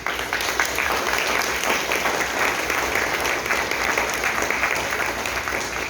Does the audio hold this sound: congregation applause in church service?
yes